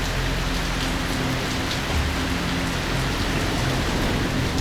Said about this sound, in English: The season's first cyclone has hit the shore. The problem is that it just brought rains